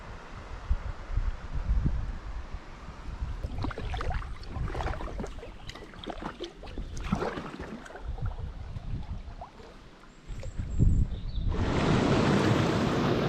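A small rapid on the upper Loire river near its source churns in fluctuating rushes of water, with splashing and knocking from a paddled boat, then a loud, steady rush at the end, with no voices.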